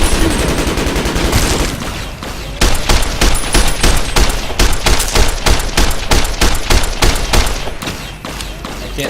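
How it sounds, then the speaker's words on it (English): A plasma rifle fires in Fallout New Vegas with loud rapid bursts of sharp shots in an irregular, near-continuous rhythm, close and dominant. "Please stop with the shooting."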